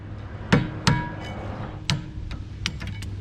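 A hammer taps a seized brake part on the rear brakes of a 2016 fourth-generation vehicle, giving a handful of sharp metallic knocks at an uneven pace, some with a brief ringing tail, close up and alone.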